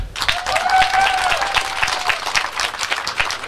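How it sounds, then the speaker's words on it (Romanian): Loud audience applause fills a Romanian event hall in Lupeni, Valea Jiului, as a crowd claps steadily and densely throughout, with a faint voice or tone briefly audible underneath. "Să-l aplaudăm!"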